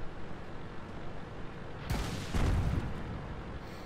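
Artillery shells slam into a T29 heavy tank in a tank battle game, a sudden booming blast that is followed by a heavier rumbling impact under steady battle noise.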